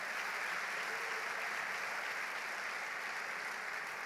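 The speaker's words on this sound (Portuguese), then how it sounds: "Aplauda Jesus nessa noite." Church congregation applauding together, a steady dense wash of clapping that holds at an even, fairly loud level throughout with no voices over it.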